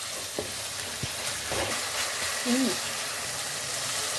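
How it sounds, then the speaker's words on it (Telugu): Tomato pieces cook in a pan for egg pasta with a steady, soft sizzle and a few stirring knocks, and a voice is briefly heard. "టమాటా ముక్కలు వేసుకొని కాసేపు ఉడికించుకోవాలి."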